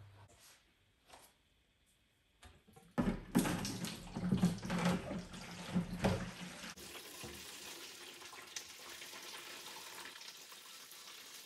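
Water is emptied from a Malawi aquarium, starting with a burst of splashing and pouring that runs for a few seconds, then settles into a steady, quieter trickling hiss heard close by with no talking.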